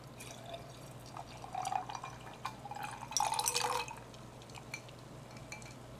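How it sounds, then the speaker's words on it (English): Brewed light roast coffee is poured over ice cubes in a glass, a soft trickling and dripping stream that swells briefly in the middle before fading, heard faintly and alone with low background hum. "We're gonna pour our coffee."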